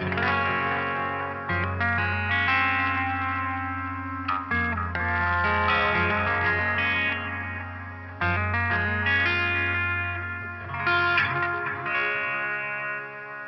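Electric guitar played through a delay-into-reverb effects pedal, heard alone as sustained chords and picked notes washed in echoing repeats and lush reverb, with a steady bass drone underneath.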